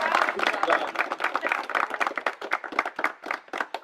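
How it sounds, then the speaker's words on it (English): Game show contestants clap for themselves after a challenge, a small group of hands clapping briskly and unevenly, thinning into scattered claps toward the end, with talk mixed in. "give yourselves a round of applause"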